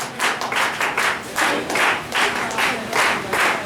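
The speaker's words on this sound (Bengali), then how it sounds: "তো একটু জোরে করতালি হলে ভালো হয়" Audience applause at a hostel farewell ceremony, close and loud, in rhythmic bursts of unison clapping roughly every half second.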